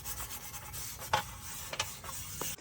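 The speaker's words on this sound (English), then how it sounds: "Well, after a quick scrub," A transmission oil pan from a mid-1990s Cadillac Fleetwood is scrubbed clean: steady soft rubbing and scraping strokes with a few sharper scrapes, close and fairly quiet.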